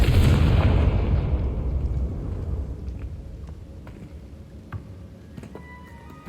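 A Confringo blasting spell in Hogwarts Legacy goes off as one heavy, booming explosion and then rolls away into a long fading rumble with faint crackling debris ticks and small pops near the end.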